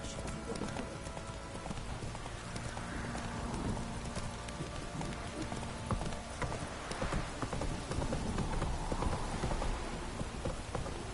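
Roach the horse gallops in The Witcher 3, steady, rapid hoofbeats pounding close and loud over a constant hiss like falling rain.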